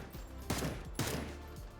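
Single tapped gunshots from a rifle in the video game PUBG, three sharp reports about half a second apart, loud and close, with no voices.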